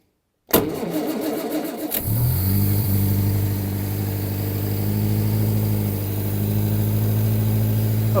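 A classic car on choke cranks with a rapid starter whirr, catches after about a second and a half, and settles into a loud, steady, slightly lumpy idle close by, with no talking over it.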